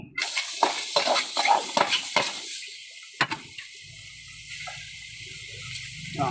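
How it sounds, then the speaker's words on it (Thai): Loud, steady sizzling of pork skin frying in a hot wok, with bursts of stirring and scraping over the continuous hiss. "เราก็จะใส่หนังนะครับ ลงไปเลยนะครับผม"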